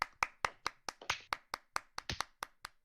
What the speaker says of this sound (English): Everyone, clap for Emma.